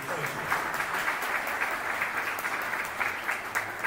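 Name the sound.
audience applause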